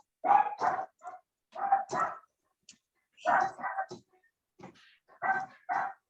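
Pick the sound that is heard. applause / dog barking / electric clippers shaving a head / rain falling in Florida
dog barking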